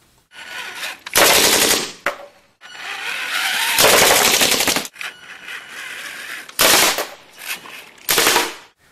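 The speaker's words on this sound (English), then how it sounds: "it has a military-style paintball gun that can fire 20 rounds per second." A military-style paintball gun mounted on a robot fires rapid bursts of shots at about twenty rounds per second, loud and near, in several separate volleys with short gaps.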